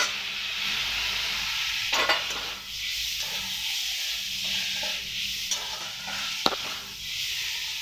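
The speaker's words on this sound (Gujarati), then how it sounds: "થોડું મીઠું એડ કરી દેવાથી ટામેટું જલ્દી સતળાઈ જશે. તો 2 મિનિટ માટે આ રીતે સાતળી લેવાનું છે." Capsicum, onion and tomato sauté in a pan with salt, giving a steady close sizzle under occasional scrapes and clicks of a stirring spoon, with no talking.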